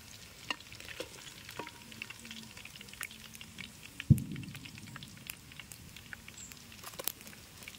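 Kaju chicken pakoda frying in oil outdoors in a mango orchard gives a soft, quiet crackle and patter of bubbling, broken by one dull knock near the middle.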